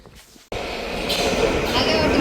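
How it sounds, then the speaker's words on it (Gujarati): After a brief quiet moment, a loud steady rumble of an approaching train sets in and grows, with rattling and a faint squeal on top. "અમારી ટ્રેન આવી ગઈ છે"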